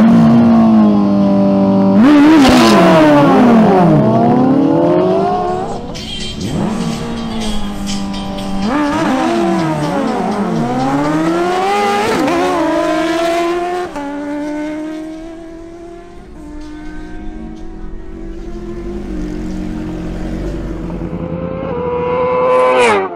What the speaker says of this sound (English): Next up, we have a duel between two Honda CBR1000RR bikes